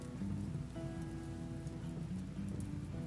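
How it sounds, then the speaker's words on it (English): Rain falls steadily in the video game RimWorld, a continuous close patter of drops on a surface with no voices over it. "And it's raining"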